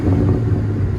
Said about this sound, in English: those DYNOMAX bullets, man, they never disappoint. They always sound so good.